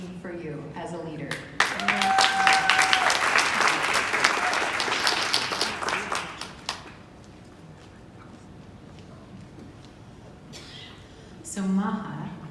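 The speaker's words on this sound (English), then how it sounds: "I invite you to applaud her as she goes to take her seat" An audience at a guest speaker event breaks into loud sustained applause lasting several seconds, which then fades, with speech heard before and after.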